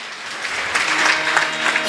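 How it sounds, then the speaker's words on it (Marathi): Audience applause at a kirtan festival for Savata Maharaj's death anniversary swells into a dense, continuous patter of many hands for about two seconds. "आता तुम्ही ह्या टाळ्या वाजवल्या"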